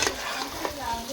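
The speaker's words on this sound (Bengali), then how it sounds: "নেড়ে নিব।" Aloo dum stirred in a pan during a brief moment of steady frying hiss, with a couple of soft scraping strokes.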